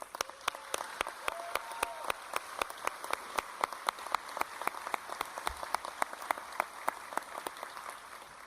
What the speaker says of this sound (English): If you guys could join me in a round of applause for Dr.